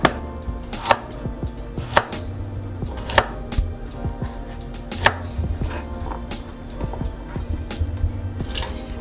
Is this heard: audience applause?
no